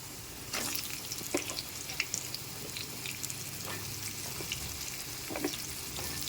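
Ridge gourd drops into hot oil already tempered with nigella seeds and fries with a steady soft sizzle, broken by scattered crackles and sharp stirring clicks in a home kitchen.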